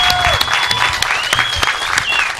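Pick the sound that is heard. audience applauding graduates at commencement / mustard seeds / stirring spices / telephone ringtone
audience applauding graduates at commencement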